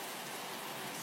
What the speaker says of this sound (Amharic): ዝናብ።